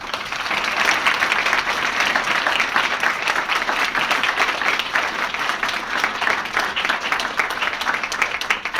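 Steady, dense applause from an audience at a children's book award ceremony fills the whole span at an even, full loudness, with no speech breaking through.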